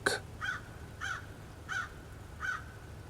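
A crow caws five times in an even rhythm, harsh calls spaced about a second apart over a quiet background.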